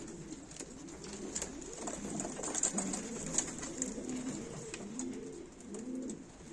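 Several pigeons coo continuously in soft, overlapping rolling calls inside a coop, with occasional clicks and rustles from birds moving nearby.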